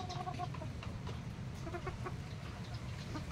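A yellow-legged hen clucks in short, close bursts amid other chickens on a farm, with a steady background hum throughout.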